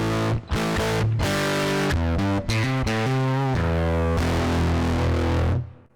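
Electric guitar through a Tone Lab's Priest preset with cabinet simulation switched off, giving a harsh, fizzy distortion. A continuous loud riff of shifting chords and bends rings out, then cuts off at the end.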